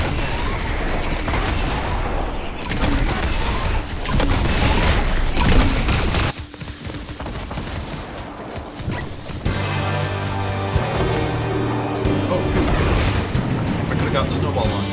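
Fortnite gameplay gunfire comes as dense, loud bursts of booming shots and blasts over a continuous busy game soundscape. Later a quieter stretch carries steady tonal music-like layers.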